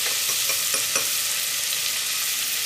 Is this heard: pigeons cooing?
no